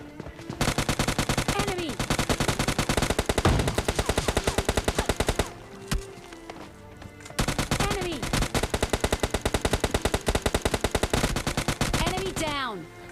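Rapid automatic M4 rifle fire in the mobile shooter PUBG Lite comes in long, dense bursts with brief breaks, loud and close, over game sounds and a voice talking.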